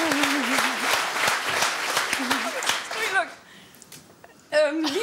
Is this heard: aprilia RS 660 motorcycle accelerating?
no